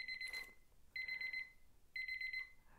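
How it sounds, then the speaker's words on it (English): A countdown timer alarm goes off after reaching zero, sounding three evenly spaced bursts of rapid high electronic beeping, clear and close in a quiet room. "This timer will go off for about a minute after it goes, after it stops counting down."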